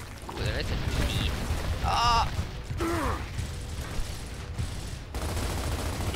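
Turret gunfire in the video game Gears of War, a rattling burst of mechanical firing with clanks and metallic effects, mixed under a dense game soundtrack at moderate level.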